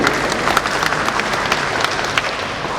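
A congregation claps together during a church wedding blessing ceremony, a dense, loud, continuous burst of applause from many hands that holds steady without any voices on top.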